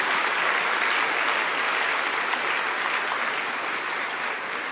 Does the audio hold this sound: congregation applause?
yes